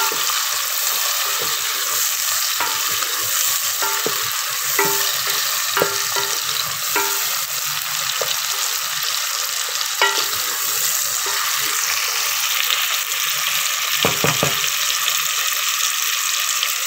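Okra and onion frying in a pan with tomato, hissing in a continuous loud sizzle while a spoon stirs and scrapes at intervals, with no talking.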